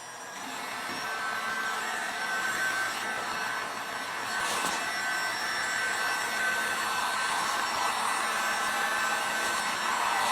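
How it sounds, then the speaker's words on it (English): A heat gun blows steadily on a Jeep Wrangler TJ flat fender flare, giving a continuous, close airy roar that holds an even level throughout with no talking. "Now I'm going to take the heat gun, make sure that just don't give it too much heat"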